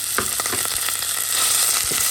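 Minced meat with sliced garlic sizzles in olive oil in a pot, a steady, close crackling hiss broken by soft scraping stirs.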